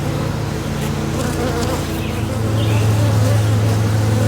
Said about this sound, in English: I'm watching the bees.